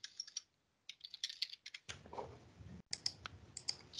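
Rapid key clicks from typing on a computer keyboard while renaming a sheet tab in Microsoft Excel, short bursts of taps with pauses and a stretch of low room noise between them, fairly close and clear.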